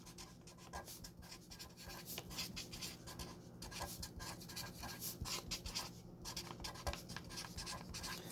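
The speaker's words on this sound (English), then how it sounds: "I'm going to write John Doe 3 times" Pen writing on a brown paper bag, a steady continuous scratching and rubbing of the tip across the paper, close and fairly quiet, with no talking.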